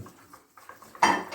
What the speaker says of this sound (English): start stirring. You don't add all the milk at once, start stirring.